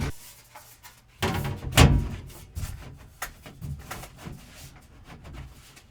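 An access panel door for a pantry wall in a bathroom remodel is handled with soft clunks and rattles, one louder knock early on, then lighter scattered taps.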